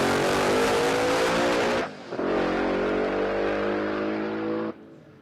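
A manual Mustang drag car at Palmyra Raceway revs hard and loud up close, its engine roaring steadily, dipping briefly, then surging again into a sustained, buzzing howl before cutting off abruptly.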